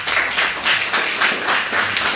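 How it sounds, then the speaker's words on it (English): Round of applause at a city council meeting in Canton, a modest group clapping in an uneven pulsing rhythm, moderately loud in a hall, without speech. "let's welcome her with a round of applause"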